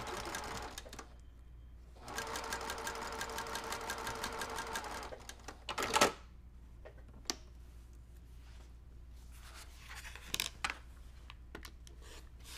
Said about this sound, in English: So I will sew again. Hopefully this time we can sew on the line and not off the line.